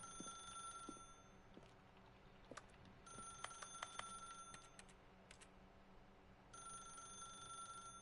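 A telephone rings in The Stanley Parable video game, a quiet electronic bell ringing in repeated bursts with short pauses between them, alone against a soft room hum.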